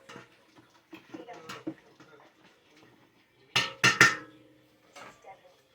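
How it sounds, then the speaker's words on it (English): A utensil mixes seasonings into home-made green beans in a pot. Light taps and scrapes come first, then two or three sharp metallic clanks against the pot, while someone talks quietly at times. "we'll mix the seasonings all up in there"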